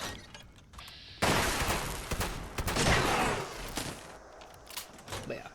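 Rapid gunfire from the Cold Shoulder weapon in Fallout 76, a dense crackling burst of shots at a steady volume with sharp bursts trailing off afterward, heard under a man's speech.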